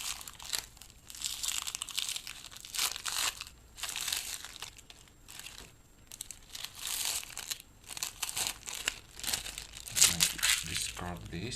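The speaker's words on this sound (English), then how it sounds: "what is left to do is to remove the tape" Tape peeled off a sewn hair weft, giving close, soft crinkling and tearing crackles in uneven bursts that keep going, with a sharper rip near the end.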